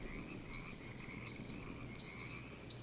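A frog croaks in the video game Ark Survival Ascended, a faint, steady chorus of repeated croaks over a low ambient rumble, with no talking.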